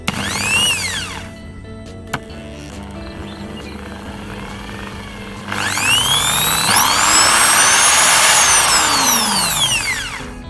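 Bosch GSB 550 RE 13mm impact drill running on its variable speed switch, whining up and then down briefly, pausing, then spinning up again to a loud, steady high-pitched run that winds down at the end.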